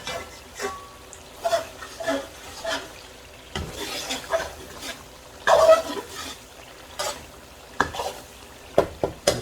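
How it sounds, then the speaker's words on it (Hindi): A spoon scrapes and stirs chicken qorma masala in a cooking pot in irregular strokes with soft clinks against the metal, and a low sizzle sits underneath. "आपने चमचा चलाते जाना है"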